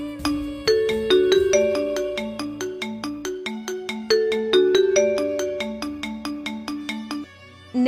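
A Huawei phone ringtone plays a bright, repeating melodic chime pattern in steady rhythmic notes, loud and close, cutting off near the end.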